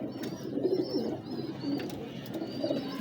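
Soft, low cooing of a Teddy pigeon repeating over a faint background with a few thin chirps.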